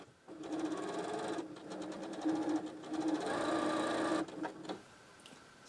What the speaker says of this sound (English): sew from corner to corner